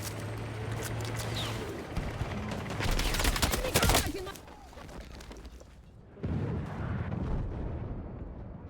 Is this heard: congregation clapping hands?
no